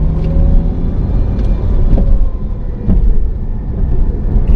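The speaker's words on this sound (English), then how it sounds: "It sounds like it's idling high, and then it drops down" A car engine idling unevenly hums steadily at close range, its low rumble wavering slightly in pitch as the revs rise and fall.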